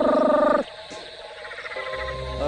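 A loud, pulsing trill of cane toads calling at Fogg Dam breaks off abruptly, followed by quieter overlapping croaks and a low hum continuing in the background.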